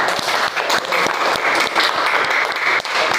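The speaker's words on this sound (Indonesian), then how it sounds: "Tepuk tangan untuk kelompok 1." A group of students in a classroom applauds a presenting group, steady dense clapping from many hands filling the whole stretch at close range.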